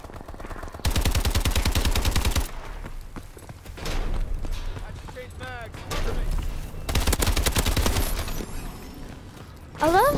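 Bursts of rapid automatic gunfire in Call of Duty: Advanced Warfare team deathmatch, loud sustained volleys starting and stopping across the clip, with a player talking in between and game effects overlaid.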